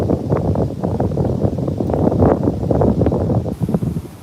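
Strong wind buffeting an outdoor microphone during a live stream, a steady, loud, rumbling roar with gusty swells throughout and no clear voice over it.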